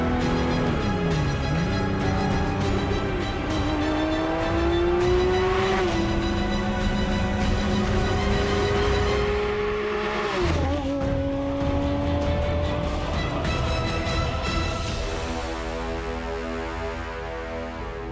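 Ferrari F50 V12 engine revs hard through rising and falling gear changes, tires squealing at times, loud and close for the whole stretch with no voices.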